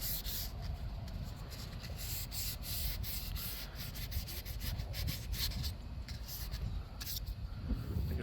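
Sandpaper worked over pink Bondo filler on a model rocket body tube, a close, continuous gritty rubbing with quick back-and-forth strokes and no talk.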